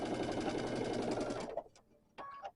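Sewing machine stitching across a thick quilt block seam, running loud and steady for about a second and a half, then stopping, with a short burst of stitching near the end.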